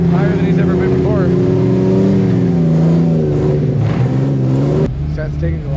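A loud off-road Jeep Cherokee engine revs steadily for several seconds at Johnson Valley with a rising and falling whine, then cuts back abruptly near the end, with faint talk underneath.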